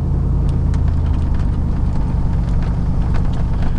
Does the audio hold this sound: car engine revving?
yes